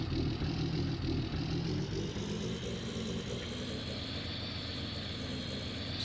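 A Ford F-350 truck engine in a farming video game drives with a trailer over rough off-road ground, a steady low drone that holds constant throughout with no talk.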